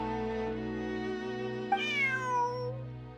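A game cat from Genshin Impact meows once, a clear rising-and-falling cry over a steady musical background, fairly close.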